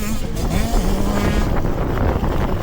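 Small 65cc dirt bike engine on a motocross track, a loud buzzing drone heard close up and buried under heavy wind rush.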